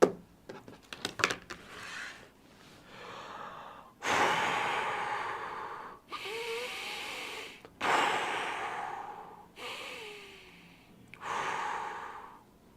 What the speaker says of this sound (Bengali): নাক দিয়ে জোরে নিঃশ্বাস নেব, মুখ দিয়ে জোরে ছাড়বো